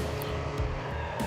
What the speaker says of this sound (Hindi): ये ड्रिफ्ट वाले बटन से तो क्या गाड़ी ड्रिफ्ट हो रही है